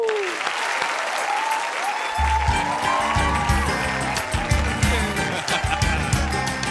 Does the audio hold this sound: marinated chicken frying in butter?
no